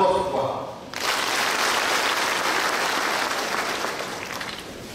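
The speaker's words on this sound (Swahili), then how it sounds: "Makofi kwao." Audience applause at a parish church consecration and official opening in Kisii, beginning abruptly after a short lull and holding as a steady, dense roar of many clapping hands for several seconds.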